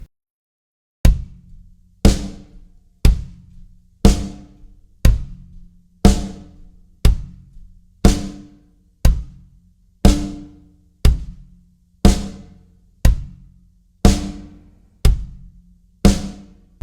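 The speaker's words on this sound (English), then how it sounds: "So then we are going to add our snare drum on beats 2 and 4." A drum kit plays a four-on-the-floor kick with the snare on beats 2 and 4, a steady, evenly spaced run of sharp, loud hits with quick decays and no other sounds.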